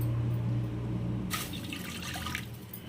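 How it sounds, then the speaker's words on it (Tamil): Water, about one and a half tumblers, poured into a heated pan on the stove while making a coconut sweet: a brief low gush, then a light splashing trickle that fades out, close and fairly quiet. "ஒன்றரை டம்ளர் தண்ணி ஊற்றுறேன்."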